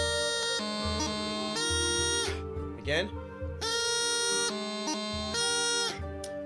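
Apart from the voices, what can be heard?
bagpipe playing a high A with a grip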